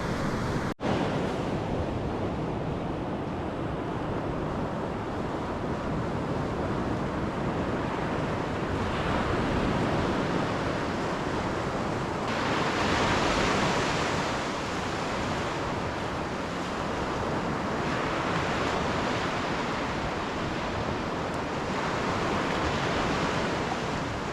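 Surf washing onto an isolated beach at Halfmoon Bay near Ucluelet on Vancouver Island's west coast, a loud continuous roar with slow swells of breaking waves and some wind buffeting the microphone.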